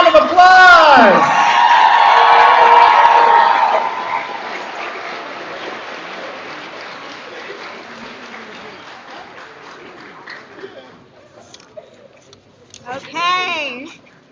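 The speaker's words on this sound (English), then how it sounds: "let's give our class of 2020-26 one more big round of applause" Applause from a commencement audience for the graduating class, loud and dense at first, then thinning and fading over several seconds, with cheers and whoops mixed in and a short voice near the end.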